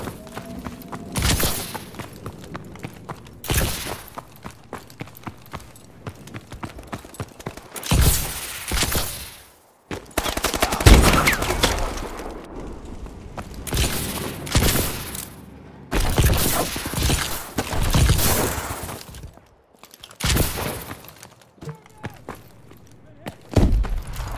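Gunfire from a team deathmatch video game, with bursts of rapid automatic shots and sharp single cracks repeating throughout, loud and close, while voices call out over the shooting.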